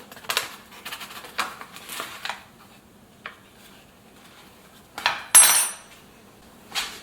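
A spoon clinks and scrapes against a bowl while cinnamon and butter are added for a pumpkin bread dough, in a scattered series of light metallic taps and scrapes with quiet gaps between them.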